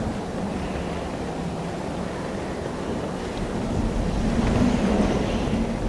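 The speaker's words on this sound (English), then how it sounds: "As you can hear, it's pretty windy here." Steady, gusting wind rushes through a high ledge area of Lower Forbidden Woods in the video game Bloodborne, a dense broadband whoosh that swells slightly toward the end, with no talking.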